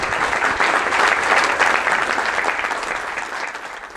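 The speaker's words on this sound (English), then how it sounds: "Okay, short applause for Philippa." A conference audience at a Clojure lightning-talk session gives a brief round of applause for a speaker, a dense wash of clapping from many hands that swells, holds steady, then gradually fades toward the close.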